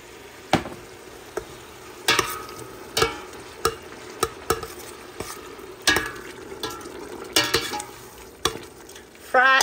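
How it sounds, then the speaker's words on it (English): Eddo soup with tomato paste frying in a pot, a soft sizzle under repeated sharp clacks and scrapes of a utensil stirring at irregular intervals, close and without speech. "Fry eddo soup."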